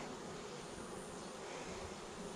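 Bees buzz at a backyard beehive in a continuous, dense drone that holds steady and close, with no talking over it.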